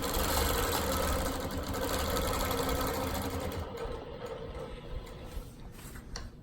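Longarm quilting machine stitching continuous diagonal crosshatch lines with a ruler, a steady rapid motor whir and needle chatter that softens and grows uneven toward the end.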